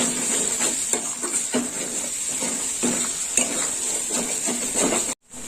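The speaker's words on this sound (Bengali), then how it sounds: "টমেটোটা দেওয়ার পরেও একটু কষানো হবে" Spice paste and tomato paste sauté in a pan, a constant frying hiss under repeated scraping strokes of a spatula against the metal, with a brief cut near the end.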